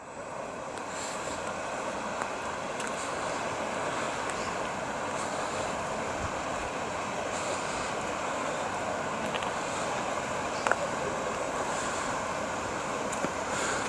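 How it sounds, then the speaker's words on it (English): Rushing water beside the Leeds and Liverpool Canal near its Liverpool end, a continuous, even roar of flowing water heard up close for the whole stretch, without voices. "You can hear the noise of rushing water."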